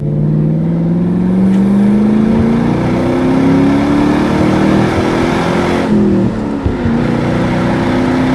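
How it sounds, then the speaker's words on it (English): A 2003 Ford Mustang GT's 4.6-litre V8 with a five-speed manual roars and climbs in pitch as the car accelerates after a downshift to second, a brief dip mid-way like a gear change, loud and close from inside the cabin. "We'll downshift to second here, roll into the throttle on this black top."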